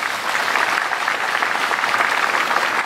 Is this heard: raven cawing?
no